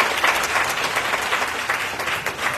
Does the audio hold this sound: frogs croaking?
no